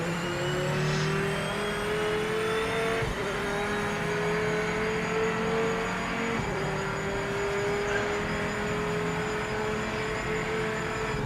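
Sustained car engine from a racing video game held in a high gear, a steady droning whine that shifts pitch slightly a few times without clear gear changes, loud and continuous throughout.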